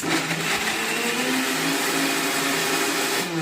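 A mixer grinder blends chunks of bottle gourd without water, a loud, steady whirring roar that runs unbroken from start to finish and dips only slightly near the end.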